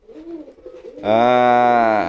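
A racing pigeon at a bird market lets out a loud, close, sustained coo with a rich harmonic tone after a second of quieter murmuring.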